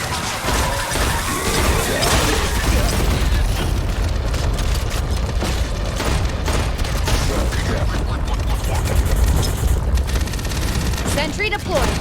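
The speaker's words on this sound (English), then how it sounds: "Pop up sentry guns. Shoot them from range." Sentry guns pop up and fire at range during a firefight in the Aliens: Fireteam Elite video game on PS5, with dense, continuous bursts of gunfire, crashes and booms that run loud throughout.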